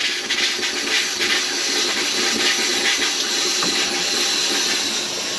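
Camper toilet in a KZ Connect travel trailer flushing as its water lines are drained for winterizing, a steady, loud rush of water with pump hiss running throughout.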